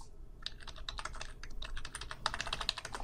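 Steady, fast typing on a computer keyboard while entering a library login ID, a dense run of close, crisp key clicks with no talking.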